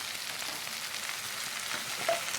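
Lobster tails sizzle and crackle on a hot Blackstone griddle at medium-high heat, a steady close frying hiss with small pops and a faint scrape near the end, no talking.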